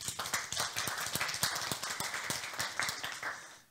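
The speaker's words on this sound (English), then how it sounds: "A round of applause for David." Audience applause at a live talk on wearable captions: a quiet, steady patter of many hands clapping, continuous for a few seconds with no voices over it.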